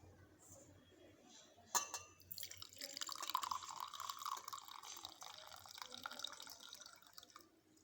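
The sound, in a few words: filtering Abutilon indicum herbal tea, liquid dripping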